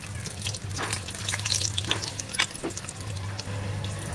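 Two Shankeshwari chillies fry in hot oil in a pan, giving a steady soft sizzle with scattered crackles and pops throughout.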